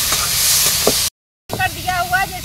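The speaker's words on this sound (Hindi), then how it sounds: "तो चलिए इसे हम मसाले में तड़के में अच्छे से भूनते हैं।" Chana dal roasts in a spiced tempering, giving a close, bright sizzle and stirring scrape that cuts out briefly to silence before resuming with clinks and frying noise.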